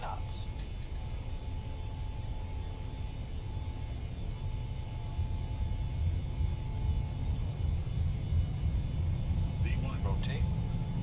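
Airliner takeoff roll in Microsoft Flight Simulator 2020, with a steady low engine and runway rumble that grows a little louder as speed builds, plus a faint steady tone and brief faint sounds near the end.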